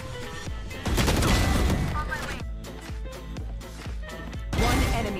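Gunshots ring out in a fast competitive shooter match, with sharp repeated cracks in bursts and a heavier volley near the start, loud against a game soundscape, with no speech.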